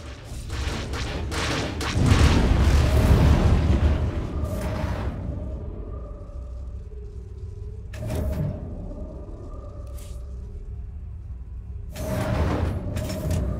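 Missile explosions in SWTOR galactic starfighter space combat, deep rumbling booms with one long roaring blast early on, then shorter bursts spaced apart over a low drone, with faint tonal game beeps.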